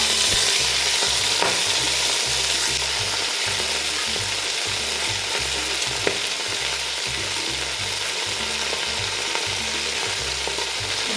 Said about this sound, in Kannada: ಕಟ್ ಮಾಡಿರೋಂಥ ಸೊಪ್ಪನ್ನ ಹಾಕ್ತಾಯಿದ್ದೀನಿ.